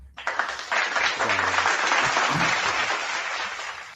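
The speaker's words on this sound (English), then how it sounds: "Applause." Studio audience applauding on a sports talk show, a steady burst of clapping that swells quickly and holds for several seconds before easing off, with faint voices underneath.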